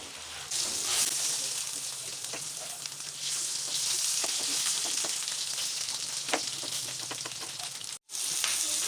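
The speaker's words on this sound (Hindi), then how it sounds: "ये देखिए जी मज़ेदार से चपली कबाब बन रहे हैं" Beef chapli kebabs fry in a pan with a continuous loud, close sizzle and crackle and scattered pops. There is a brief dropout near the end and no speech.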